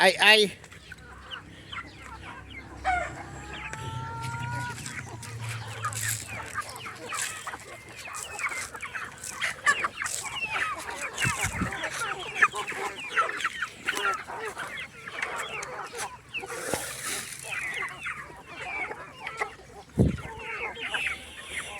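Pet chickens cluck and murmur continuously nearby while being fed, with occasional louder squawks and short bursts of human speech in Filipino mixed in among the birds.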